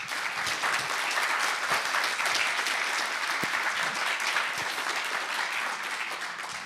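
A seated audience at a Q&A applauds steadily to welcome guests, dense continuous clapping at even loudness that tapers slightly at the end.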